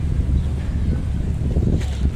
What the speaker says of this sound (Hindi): लोग बैठे हुए हैं, ठंडी हवा चल रही है।